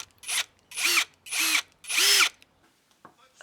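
Power drill driving screws to attach caster wheels with 4 by 4 cm base plates to a wooden easel frame, four loud close whirring bursts of about half a second each separated by short pauses, then faint handling clicks.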